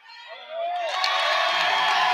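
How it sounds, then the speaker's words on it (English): Crowd at a high school girls' basketball game between Heritage and Darrington swells into loud cheering and whoops after a hustle play, building from a murmur to a sustained roar. "And the crowd erupts."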